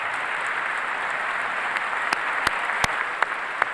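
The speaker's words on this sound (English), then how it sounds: "Please clap." Steady applause from a large audience in a hall during a State of the Union address, a continuous crackling wash of clapping with a few sharper individual claps standing out near the end.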